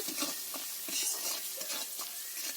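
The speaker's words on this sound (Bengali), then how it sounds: "এটা ভালো করে নেড়ে চেড়ে নেব।" Ground pepper, turmeric and salt being stirred as they fry in a kadai for a paneer filling, with repeated scraping strokes of a spoon over a continuous sizzle, close and moderately loud, no voices.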